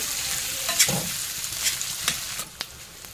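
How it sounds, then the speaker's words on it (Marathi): Chopped potatoes sautéing in a pan for a Marathi potato bhaji, a soft steady sizzle broken by a few sharp scraping stirs close by. "हे बटाटे चिरून घेतलेले बटाटे टाकूया। हे बघा चांगले परतून घ्यायचे असे।"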